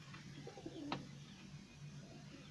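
Breeder-quality pigeon cooing softly, a low murmuring coo in a quiet indoor setting with a brief sharp click partway through.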